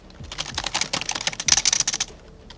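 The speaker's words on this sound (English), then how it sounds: "does that mean you can hear my keyboard when I type?" Rapid clicking of keystrokes on an old computer keyboard, heard close up in quick uneven bursts with a short pause in the middle and no talk over it.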